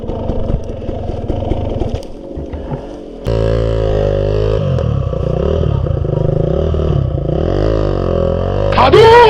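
An enduro motorcycle on a Philippine trail between Tuway-Tuway, Datal and Tampal, its engine droning close and loud with shifting revs and a sharp climb at the end, while a rider talks over it.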